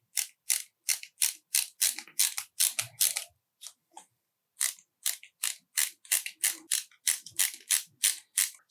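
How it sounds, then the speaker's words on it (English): A hand screwdriver ratchets screws partway into the frame of a Prusa Core One 3D printer: a steady run of crisp, rapid clicking strokes, close and clear, pausing briefly midway before resuming. "So I'm just putting these screws in just to get the hole started."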